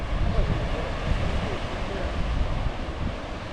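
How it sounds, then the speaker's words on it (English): Pacific Ocean surf and wind on a beach near San Simeon fill the scene with a steady broadband roar and wind buffeting on the microphone, continuous and fairly loud, with no distinct voices. "I hear the waves of the Pacific. So nice. And of course the wind."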